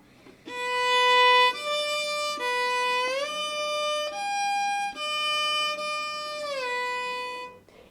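Bowed string instrument plays a slow beginner third-position shifting exercise, sustained clean notes sliding up and back down between positions with short gaps, close and moderately soft.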